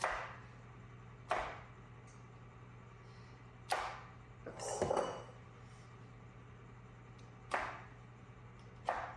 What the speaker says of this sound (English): Any egg slicer will do strawberries. But this is just extra fast.